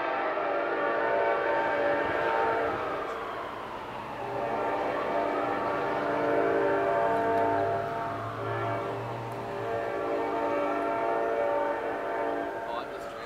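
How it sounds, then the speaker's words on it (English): Amtrak 95 passenger train passing, with a long rumbling roll of rail cars and a steady drone that swells and fades in slow waves, loud and close throughout, with no talking. "And that was Amtrak 95."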